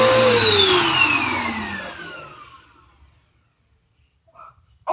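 A vacuum cleaner in a bedroom winds down from a loud whine, its motor pitch sliding steadily lower and fading to silence, followed by a few faint knocks and handling noises.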